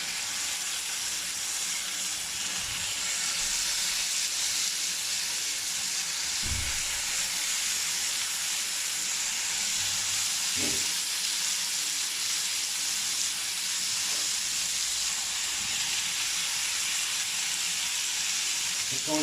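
Chicken malai boti pieces cooking in a grill pan on a gas stove, a steady close sizzle and hiss of frying throughout, with a few soft clinks and no talk.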